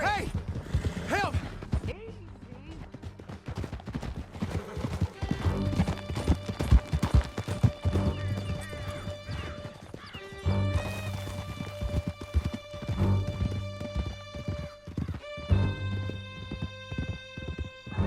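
Horses gallop in the Red Dead Redemption 2 game, a steady rapid clip-clop of hooves running the whole time beneath sustained music, with voices heard briefly.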